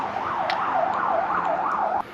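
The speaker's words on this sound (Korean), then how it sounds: "자 지금도 이렇게 구급차가 오고 있습니다." An ambulance siren wails in a rising and falling cycle as it arrives at a hospital emergency centre, loud and steady, cutting off abruptly near the end.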